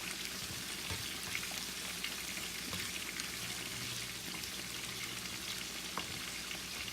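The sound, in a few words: onions and garlic frying in a pan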